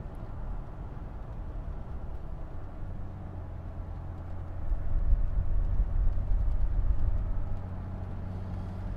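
Toyota Tacoma pre-runner double cab truck on the move, a steady low engine and road rumble from inside the cab that swells louder midway as it accelerates, then settles.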